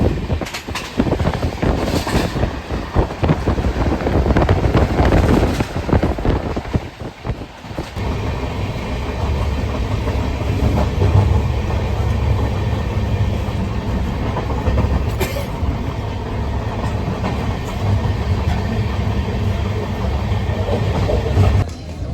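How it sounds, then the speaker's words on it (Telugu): A passenger train travels with a loud, sustained rumble and rhythmic wheel clatter on the rails, heavier at the start, mixed with wind rush and no talking. "ఇది మనం వచ్చిన ట్రైన్."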